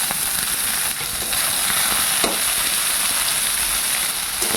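Chopped onion, tomato and ginger-garlic paste frying in a pan, with a steady, close, continuous sizzle and faint stirring throughout.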